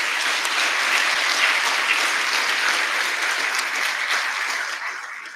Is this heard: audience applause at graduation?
yes